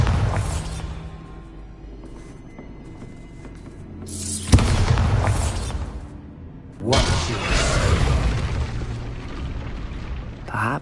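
A Bombarda explosive spell blast from the game Hogwarts Legacy: loud booming bursts with whooshing, one sharp burst near the middle followed by a second rumbling eruption, over a low background rumble.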